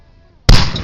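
A microwave blows up with a sudden loud bang after a near-silent moment, followed by a burst of harsh, noisy crackling that carries on to the end.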